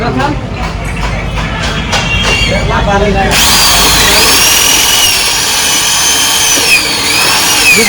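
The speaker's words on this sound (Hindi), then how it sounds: "बड़ा छेद करना पड़ रहा है" A power drill boring a larger hole for an RS200 motorcycle handlebar change, first a rough grinding with knocks, then a loud sustained high whine that wavers in pitch, close by.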